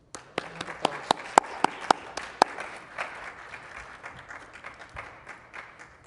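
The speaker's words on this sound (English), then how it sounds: "a round of applause for all of our healthcare workers" A modest room of people claps for healthcare workers at a COVID-19 vaccination event, sharp individual claps at first that blend into a soft, thinning round of applause before fading out.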